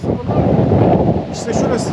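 Strong wind blows steadily outdoors along a huge coastal bay, a loud, constant buffeting roar across the microphone that continues under a brief spoken remark.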